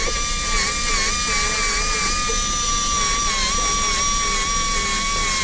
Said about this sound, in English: clean it up a little bit with the enhanced polishing point and see what we have going on